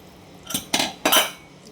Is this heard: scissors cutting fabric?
no